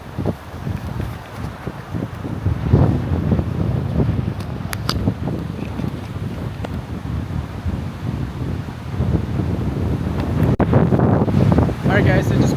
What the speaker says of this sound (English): As you can see, it's windy out tonight.